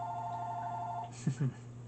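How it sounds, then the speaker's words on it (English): A telephone rings in a quiet room: a steady electronic ringtone holds for about a second, then a short burst of voice-like sound follows, with faint background talk. "guess someone decided now to call me. I should have put that phone off the hook"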